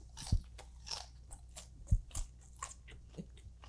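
Crunchy bites and chewing on Japanese food, squid karaage among a sashimi spread, with a few sharp crisp crunches standing out over softer, closer mouth sounds and no talking.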